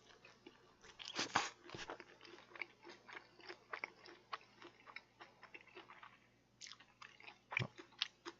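Premium pizza being bitten and chewed close to the mic, with repeated soft crunches and mouth sounds and a louder bite or two standing out, no talking.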